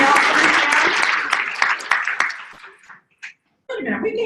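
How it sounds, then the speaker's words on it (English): Round of applause from a small audience at a wellness presentation, dense clapping that thins and fades out over about three seconds, followed by a brief pause and then people start talking. "Give her a round of applause."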